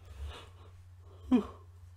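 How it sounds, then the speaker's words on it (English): A single person's yawn, a drawn-out breathy exhalation swelling and fading once, close and quiet, with a faint low hum underneath and no talk. "Sorry for the yawns."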